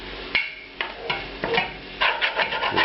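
Browning lamb mince is stirred in a pan with rendered fat, giving close scraping and rubbing strokes in an uneven rhythm over a soft sizzle.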